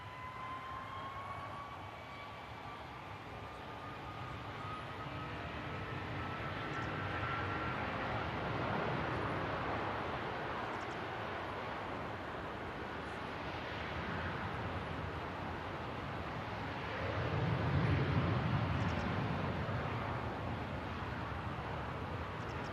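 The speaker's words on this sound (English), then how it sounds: "Off goes the Virgin Atlantic, about to start her takeoff roll" A Virgin Atlantic airliner begins its takeoff roll at Manchester Airport, a steady broad roar of jet engines that swells gradually and stays heard from a distance across the field, with no voices.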